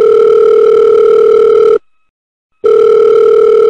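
A telephone dial tone sounds loud and steady as a phone call is placed, cutting out briefly partway through before resuming alone.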